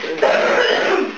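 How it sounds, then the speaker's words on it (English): A person coughs once or twice, a short, harsh, close burst on the set of a Spanish-language taco salsa skit, filling the moment with no clear words. "stop coughing"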